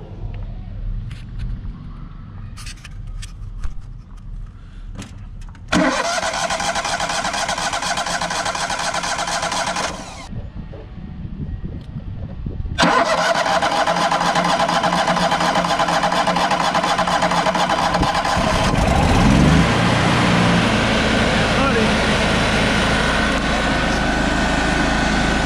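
A Trailblazer 325 EFI engine fed by a high-pressure fuel pump is started. After some early clicks it catches, cuts out, then restarts and settles into a steady, loud run that swells slightly toward the end.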